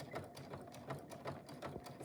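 A sewing machine runs at a steady moderate pace, its needle chattering in an even mechanical rhythm as it stitches through a thick jelly roll basket with double batting.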